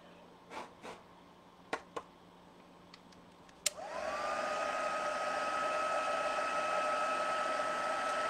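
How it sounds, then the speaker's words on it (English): A heat gun used on a paper card craft switches on with a click after a few light taps, then blows with a steady, loud whooshing roar that rises in pitch and holds to the end. "So, heat gun again. Just going to give this a bit of a blow first."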